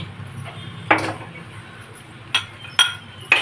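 Metal utensils clink sharply a few times against a pan while chili powder is stirred into vegetable fried rice, four brief, fairly close strikes spaced apart over a quiet kitchen background.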